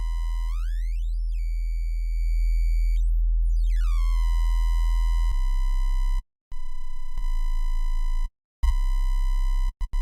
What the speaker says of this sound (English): Turn up, I want it to alias, so I turn up the aliasing all the way.